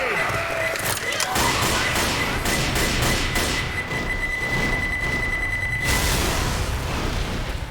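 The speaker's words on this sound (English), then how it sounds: "Grenade!" Left 4 Dead game combat: a grenade goes off with heavy thuds and booms amid rapid bursts of gunfire, loud and continuous, with a shouted voice over the chaos.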